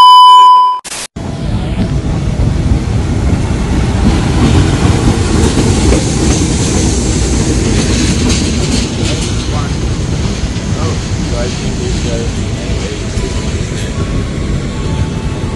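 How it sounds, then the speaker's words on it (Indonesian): Continuous rumble and rattle of a passenger train rolling along the rails to Surabaya, Indonesia, heard from onboard, with a brief tonal beep at the start. "Hari ini perjalanan ke Surabaya menggunakan kereta api."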